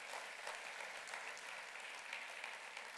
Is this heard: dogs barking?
no